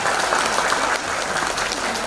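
Audience applause at a success-story event in Jakarta, loud and dense, a steady roar of many clapping hands from start to finish.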